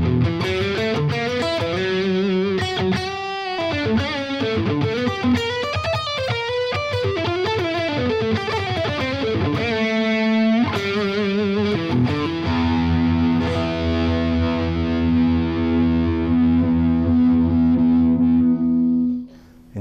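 A Cort Sunset electric guitar on its middle pickup with heavy overdrive plays a loud distorted riff of shifting notes, then settles into a long sustained ringing chord before cutting off.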